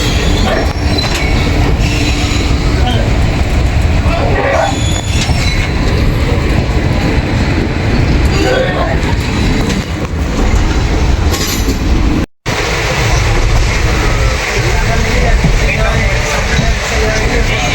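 The Teesta Torsha Express rolls along the rails at speed, a loud continuous rumble with rattling wheel noise and faint squeals that drops out for an instant before resuming.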